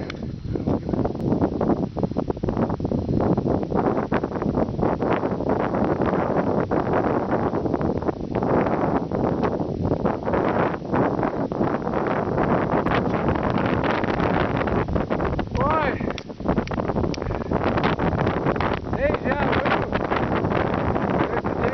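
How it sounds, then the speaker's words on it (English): Strong wind on a hilltop buffets the microphone in a continuous loud roar and rumble, with gusts rising and falling throughout and no speech. "it sure warmed up and got really windy, so I think it's always windy on the top up here"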